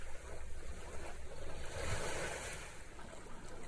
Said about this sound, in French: Entendez le bruit de l'eau, revigorant.